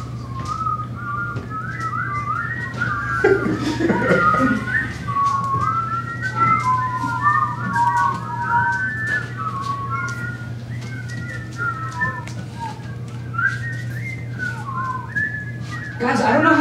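Several people whistling together live on a stage, a tangle of overlapping warbling tones running nearly the whole time, loud and close, with bursts of talk and laughter near the start and end.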